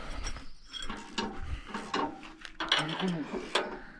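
Metal clinks and ratcheting wrench clicks from bolts being tightened on a Hermes DBG 2 disc harrow, close by in irregular bursts, with people talking intermittently over the work.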